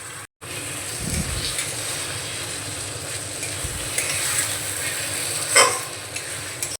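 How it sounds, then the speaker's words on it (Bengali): Mutton with ginger paste is stirred in a pan for a village-style Bengali mutton and potato curry, a steady close sizzle with scraping spoon movements and a brief louder rattle near the end, and no voices. "আদা বাটা দিয়ে একটু নাড়াচাড়া করে নিয়ে দিয়ে দেব পেঁয়াজ বাটা"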